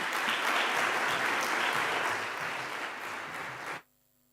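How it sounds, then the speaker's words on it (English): An audience at a financial industry conference applauds steadily in a dense, sustained burst of clapping that fades slightly before stopping abruptly into near silence. "Let's give a round of applause."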